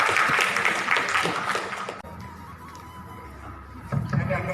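Applause from a gathered crowd welcoming a speaker at a family event, dense clapping loud for about two seconds, then fading into quieter murmur and a brief swell near the end.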